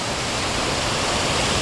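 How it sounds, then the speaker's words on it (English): A waterfall at Cederock Park rushes in a steady, dense roar of falling water, loud and close, unbroken from start to finish with no voices. "they literally got the backyard of a waterfall"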